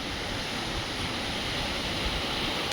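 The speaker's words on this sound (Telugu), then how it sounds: "ఎగిసి పడుతున్న అలలు చూసి నేర్చుకోండి" Ocean waves surge and break on Pondicherry beach, a steady, loud broadband roar that continues without pause, with some wind buffeting the microphone and no speech.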